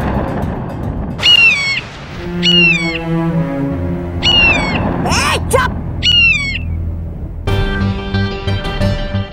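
A kite's shrill call, used as a sound effect in the fantasy TV show Baalveer Returns, repeats as descending screeches over a dense musical background, and a voice briefly speaks partway through.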